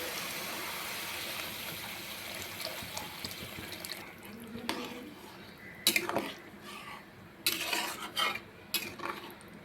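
Hot water poured into well-fried curry masala in a pan for a Bengali fish curry: a steady rushing hiss lasting a few seconds, then scattered clinks and knocks of utensils against the pan.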